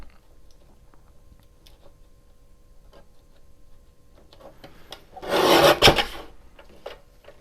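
A trimmer slices through cardboard in one loud, rasping stroke lasting under a second, preceded by faint scattered ticks and light handling noise in a quiet room.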